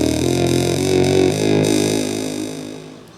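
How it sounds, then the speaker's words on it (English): A tiny handheld synthesizer plays a sustained, buzzy bass tone that holds steadily and then fades out over a few seconds. "I can make bass sounds like this."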